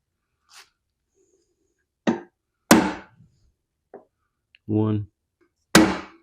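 Sharp metal taps from a hammer striking an awl with a chisel tip, used as a center punch on go-kart metal. A few separate loud blows, close by, with a short spoken word between them.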